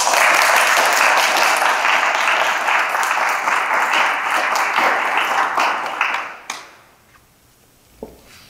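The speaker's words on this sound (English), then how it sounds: "let's give a round of applause to our alumni for their great work" A banquet audience gives sustained, loud applause that fades out after about six seconds, leaving a few stray claps in a quiet room.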